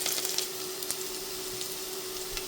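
Chopped garlic fries in olive oil in a pan, giving a steady close hiss with scattered sharp crackles and pops, no voices over it.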